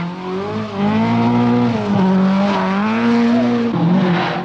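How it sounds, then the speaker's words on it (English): A Vauxhall Chevette rally car races on a tarmac road at the 1982 Manx Rally, its engine loud and close, revving and changing pitch through gear shifts, with tires scrubbing on the surface. "with the Vauxhall Chevette, and in his effort to stay in touch with the Finns, he is putting down more rubber on the road than Vatanen"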